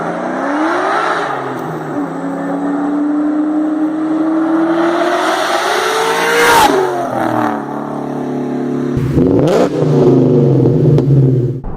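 A Coyote 5.0 V8 Ford Mustang with aftermarket exhaust revs up and holds a loud, rising roar, then drops and revs sharply again, close and continuous with a throaty exhaust note.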